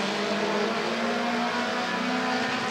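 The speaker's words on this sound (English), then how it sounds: "Dixon pushing on Finley to one. Finley gets away as Dixon lifts" Race cars roar around Rockford Speedway during a Bandit heat, a dense, continuous engine drone that stays loud and even throughout with no pauses.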